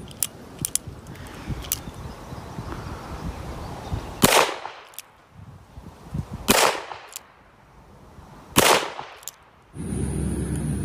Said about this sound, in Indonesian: Wow, pistol cowboy.